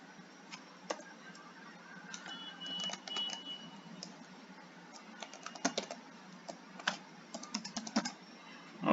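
Keys on a computer keyboard click in irregular bursts as a password is typed, faint and close, with short pauses between runs of keystrokes.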